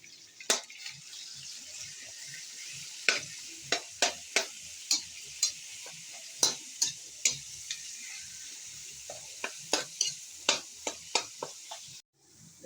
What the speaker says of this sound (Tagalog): Ilagay na rin natin ang ating giniling.